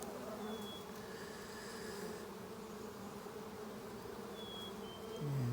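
Honey bees from a swarm colony buzz steadily during a hive inspection, a dense continuous drone of many insects with occasional individual bees passing close, no talking.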